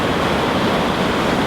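A huge waterfall roars as one steady, loud wash of water, unbroken and close, with no voices over it.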